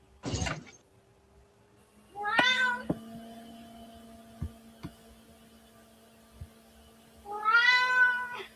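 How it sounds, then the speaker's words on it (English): A cat meows three times, spaced apart, close and clear, with a low electrical hum and a few soft clicks in between. "That's my cat meowing."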